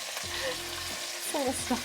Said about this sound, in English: just gonna give this a nice sear on medium-high heat for 2 minutes aside